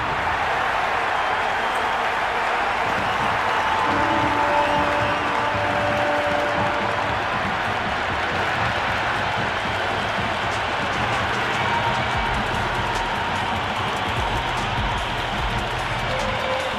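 Crowd noise in a cricket video game, a steady, loud, continuous roar of the stadium audience with no distinct claps standing out, holding evenly throughout.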